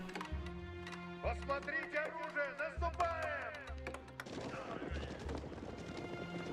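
Horses' hooves from knights and horse archers advancing in the Age of Empires 4 strategy game, a steady clip-clop mixed with battle noise and game effects, heard under tonal game music and sounds.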